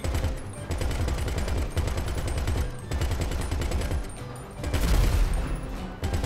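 Dense bursts of video game gunfire from GTA V, rapid volleys and automatic fire stacked over one another with heavy low booms, loud and nearly continuous throughout with no voices.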